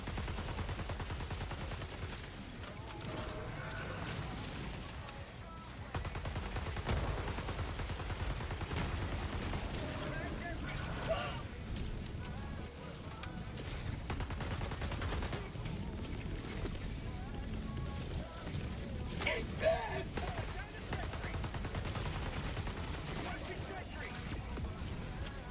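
Dense, continuous gunfire from a Helldivers 2 battle: rapid automatic bursts and scattered shots run throughout, loud and close, with voices talking over the shooting.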